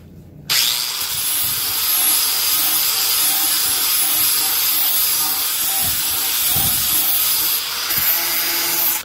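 An angle grinder strips paint and rounds the edges of a steel pry bar, a loud continuous abrasive whine and hiss that starts abruptly and holds steady for several seconds, with faint scraping variations as it works the metal.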